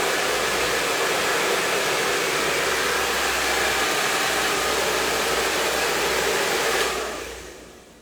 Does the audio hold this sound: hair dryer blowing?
yes